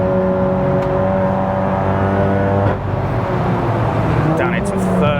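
A modified VW MK7 Golf R with a big turbo making over 500 BHP drones loudly from inside the cabin on the Nürburgring, its engine note steady with gear changes.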